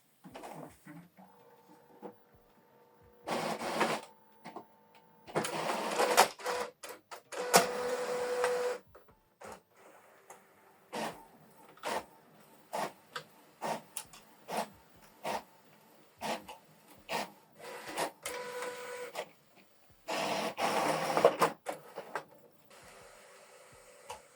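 An Epson EcoTank ET-3950 printer making a two-sided copy: bursts of whirring, clicking paper feed and print-head motion, separated by short pauses, close and moderately loud with no talking.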